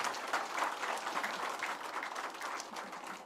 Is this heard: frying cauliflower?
no